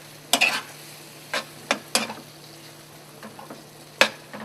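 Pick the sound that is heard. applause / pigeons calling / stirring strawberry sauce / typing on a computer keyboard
stirring strawberry sauce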